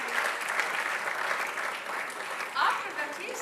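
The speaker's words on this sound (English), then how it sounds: "Hazarika finishing up with the 10-7, getting a huge applause" Spectators applauding at an ISSF Shooting World Cup 10m air rifle men's final in Bhopal, India: sustained hall-wide clapping, moderately loud, with a commentator's voice speaking over it.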